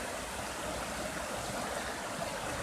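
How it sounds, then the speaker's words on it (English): Rushing river water rolls past a kayak in cold winter conditions, a steady, dense broadband roar that stays close and loud throughout with no voices. "Water's rolling."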